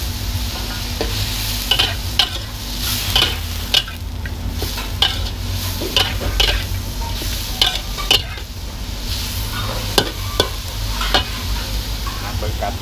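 Crispy pork is stir-fried for Lao fried rice: a loud, steady sizzle fills the pan while a spatula clacks and scrapes against the metal in a brisk, repeating rhythm, close up, with no speech.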